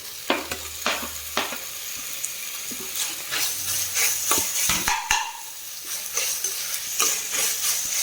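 Chopped tomatoes sautéing with ginger-garlic paste for a chicken gravy, with a steady close sizzle and repeated scraping stirs and clinks of a spoon against the pan at an uneven rhythm, moderately loud, with no talking.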